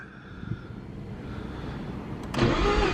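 Mazda FC3S Savanna RX7 rotary engine cranking briefly then catching near the end, a sudden loud rise into a steady idle after a quiet lead-in.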